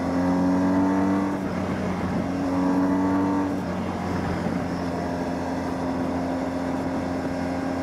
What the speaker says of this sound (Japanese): もうちょっと回してみましょうか。 これ3速ですね、だいたい5000回転から6000回転ぐらい。